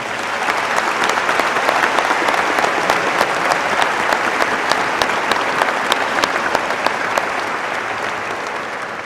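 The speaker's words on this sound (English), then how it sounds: "giving Andrew and Joel one more round of applause." Sustained applause fills a high school graduation ceremony in a large crowd, steady dense clapping at full volume throughout with no break.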